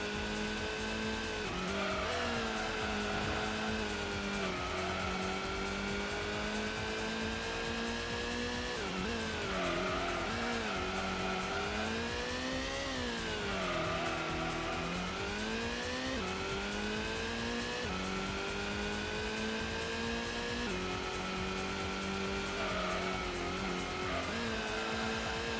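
Gran Turismo race cars, among them a GTI and a Skyline, lap the Grand Valley circuit past a hairpin: continuous loud engine whine that rises and falls with revs, plus tire squeal and skidding, with no talk.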